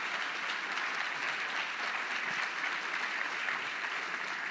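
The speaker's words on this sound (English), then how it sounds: "Round of applause, ladies and gentlemen." Even, continuous applause from a conference audience at a World War II history conference, a soft, dense patter of clapping heard from a distance.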